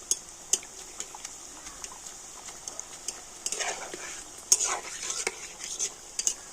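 Layered egg snacks frying gently in a little oil over low heat, a soft continuous sizzle broken by sharp utensil taps and scraping against the pan, no voices.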